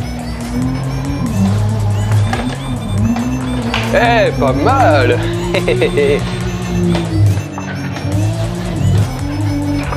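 Race car braking and drifting in the Assetto Corsa racing game on a home simulator, a loud steady engine drone with rising and falling tire squeals, while someone talks briefly over it.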